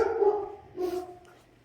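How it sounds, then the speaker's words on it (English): A pet dog barks indoors at a distance, two short muffled barks a moment apart, faint and otherwise alone. "I just gotta go see why my dog is barking"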